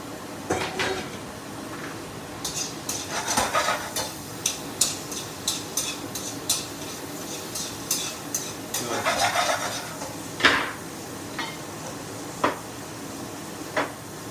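Onions and peppers go into a pan for a chicken stir-fry, bringing clanking pan knocks, rustling tosses and a soft sizzle, with brief utensil taps and scrapes scattered at close range.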